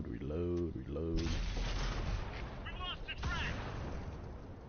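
Artillery shells strike a Tiger tank in World of Tanks, with heavy booms and rumbling impacts while someone talks over the barrage.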